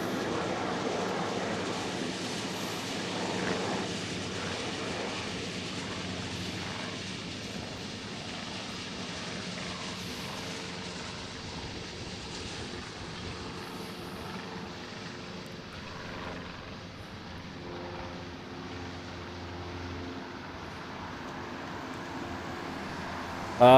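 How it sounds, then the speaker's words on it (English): A Hawaiian Airlines plane departs the reef runway at Honolulu, its engines a broad sustained roar that holds steady for over twenty seconds, slowly easing as it climbs away. "Next one out of the reef runway is a Hawaiian heading off to Maui."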